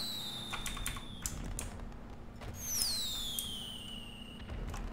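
Fireworks in GTA V, whistling rockets streaking upward with a descending whine, mixed with scattered crackling pops and clicks over a steady low hum.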